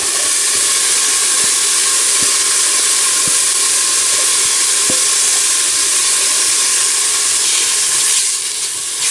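Carrot and zucchini sizzle steadily in a hot pan, a dense continuous frying hiss with a few soft stirring taps, close and fairly loud, with no talking.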